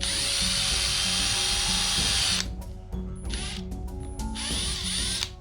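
A close power drill runs steadily, stops, then restarts in a few brief stuttering bursts before a final longer run.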